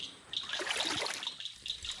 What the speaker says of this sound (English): Here we are walking in through a very warm pool of water on the off-road